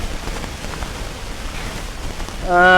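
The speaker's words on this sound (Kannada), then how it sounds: "ಅಯ್ಯೋ ಸಿಕ್ಕಾಪಟ್ಟಿ ಮಳೆ ಆಗತೈತೆ ನೋಡ್ರಿ ಇಲ್ಲಿ" Heavy rain pours outdoors in a dense, even hiss of falling water that stays close and steady. A brief tonal sound cuts in at the very end.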